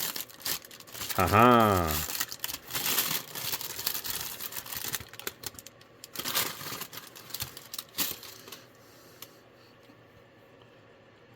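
G.I. Joe Classified figure packaging is torn and crinkled open up close, with bursts of crumpling and ripping plastic and card. A short laugh comes early on, and the sounds fade into quieter rustling.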